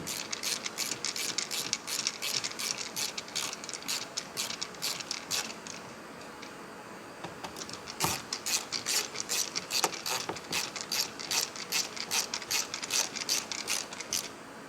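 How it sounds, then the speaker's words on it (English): A ratchet tightens speaker screws into a door panel on a 79 Series Landcruiser, giving rapid bursts of close, crisp clicking that run steadily, ease briefly near the middle, then resume. "You only need to tighten the speaker to the point where it is firm"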